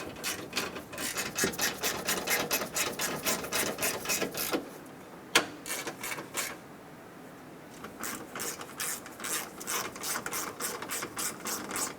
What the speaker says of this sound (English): Go around and snug up the rest of the bolts as well.